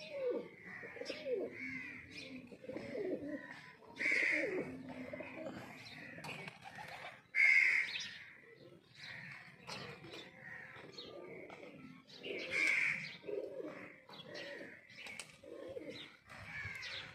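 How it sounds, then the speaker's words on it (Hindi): Teddy pigeons at a village loft coo in soft, throaty bursts at irregular intervals, fairly close, with faint rustling between calls and no talking. "ये टैडी कबूतर है"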